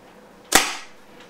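A single loud, sharp shot from a Tippmann TIPX .68 caliber paintball pistol firing a 3.9 gram Pepperball rubber ball, a close crack with a brief hissing decay, heard alone.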